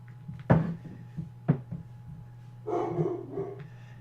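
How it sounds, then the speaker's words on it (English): Dogs barking in a basement: two sharp, separate barks about a second apart, followed by a softer scuffling rustle, all faint and somewhat distant over a steady low hum. "Today is the stream of dogs barking."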